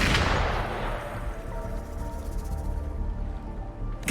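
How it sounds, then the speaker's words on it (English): Burst of gunfire in the Wuthering Waves video game, a loud opening crack fading into a sustained rumbling tail with low droning tones underneath and no voices. "Gunfire!"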